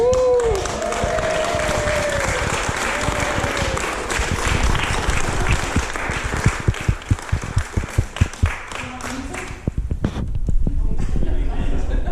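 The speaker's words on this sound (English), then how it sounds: "We'll clap you again." Wedding guests applaud a newly married couple, dense continuous clapping from a crowd that thins into scattered individual claps near the end, with some cheering and voices mixed in.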